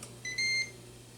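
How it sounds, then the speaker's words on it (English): A cooking timer gives short, bright electronic beeps in a quick pair over a low steady hum, with no talking. "and timer goes."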